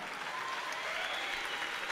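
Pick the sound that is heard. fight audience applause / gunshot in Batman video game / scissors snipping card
fight audience applause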